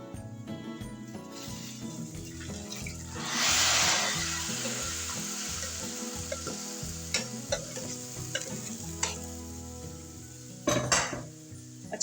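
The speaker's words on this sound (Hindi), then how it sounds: "तो हम इस बघार को इसके अंदर डाल देंगे।" Hot tempering (baghar) poured into a pot of mutton nihari, bursting into a loud sizzling hiss that fades into steady frying, with utensil stirring and scraping and clinks against the pan.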